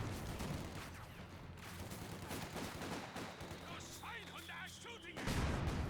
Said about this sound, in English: Great mortar hit there.